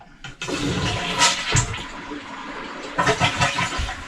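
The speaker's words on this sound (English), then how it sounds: "Okay, flush it." A household toilet fitted with a bidet attachment flushes in a bathroom. A loud rushing gush of water is followed by swirling and draining, close and alone.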